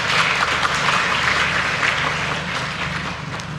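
A large crowd at a mass subsidized-mortgage signing ceremony in Indonesia applauds the President, a steady roomy wash of clapping that stays fairly even and tapers slightly toward the end.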